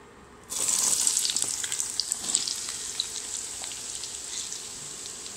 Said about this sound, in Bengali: এখন আমি গরম তেলের মধ্যে পেঁয়াজটা দিই।